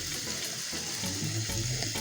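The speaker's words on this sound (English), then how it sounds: "at this time now we will add water" Water streams steadily into a pot of slow-cooking chicken with a continuous hissing splash, close and even throughout.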